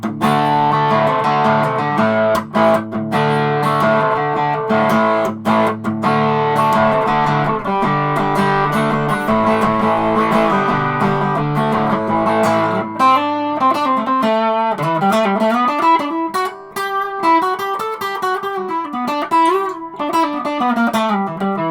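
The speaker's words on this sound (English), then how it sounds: "You know how to use distortion pedals with an acoustic." An acoustic guitar played through a fuzz distortion pedal, sustained buzzy chords giving way to bending, wavering lead notes, loud and alone.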